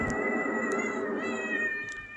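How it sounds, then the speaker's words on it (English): A cat yowls and meows continuously in a drawn-out, wavering caterwaul, loud and close, with no talk over it. "I don't like the sound of that cat."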